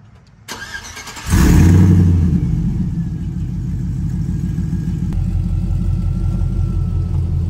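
A lifted 2005 Chevy Silverado pickup on 24x12 chrome wheels cranks briefly, fires with a loud roar, then settles into a steady, deep rumbling idle, close up with no talking.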